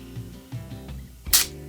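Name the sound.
Nikon D750 camera shutter closing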